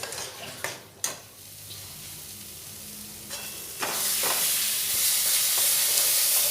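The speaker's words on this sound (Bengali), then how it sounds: "কাশ্মীরি লঙ্কা পাউডার দিয়ে এই মশলাটা খুব ভালোভাবে কষিয়ে নেব" A spice paste with Kashmiri chili powder sizzles in a pan for a prawn malai curry, with a couple of sharp utensil knocks early and the frying hiss swelling louder in the second half, close and without talk.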